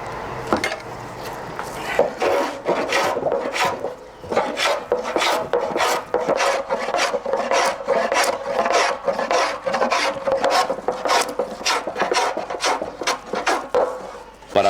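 Hand planing and rasping a handmade wooden wine barrel with a carpenter's plane and scraper, rhythmic repeated rasping strokes, close and fairly loud, about two strokes per second, with no talk.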